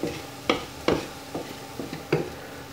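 Meat stewing in a pan on low heat as it releases its juice, a soft low simmer under a handful of spaced scraping knocks of a utensil stirring against the pan, with no talking.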